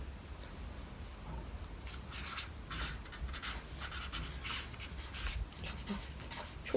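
Pen writing on paper, heard as a soft, continuous scratchy rustle with brief stroke bursts, faint and close, with no talk.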